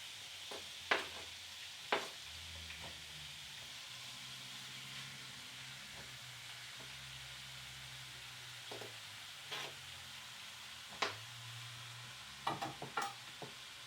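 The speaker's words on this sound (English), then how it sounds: "This is where I throw the meat into the pot." Beef sizzling in a pot over high heat for Peruvian lomo saltado, a faint steady frying hiss with a low background hum, broken by occasional sharp clinks and scrapes of a utensil against the pot.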